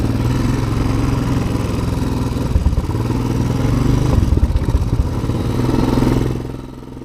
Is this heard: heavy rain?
no